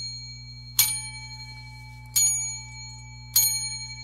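A small bell is struck three times at even intervals, each hit ringing out clearly and fading before the next, with no talking.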